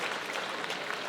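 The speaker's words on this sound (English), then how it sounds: "This is a crowd that knows their table tennis to applaud how much feeling it takes to catch this ball on the racket" A table tennis crowd at a men's World Cup semifinal applauds a skilful shot, a brief, dense wash of clapping from the arena.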